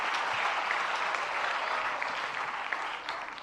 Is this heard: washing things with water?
no